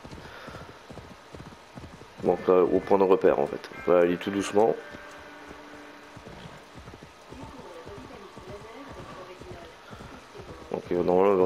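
Horse hooves clip-clop steadily in Assassin's Creed Valhalla on PS4 Pro as the rider heads toward smoke, a soft rhythmic patter beneath someone talking throughout.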